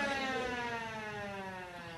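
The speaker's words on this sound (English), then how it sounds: "Okay, players, that's a siren. That means the game is over." A steady siren wail signalling the end of a spelling bee game, with a bright, harmonic tone, sounding alone for about two seconds at moderate distance.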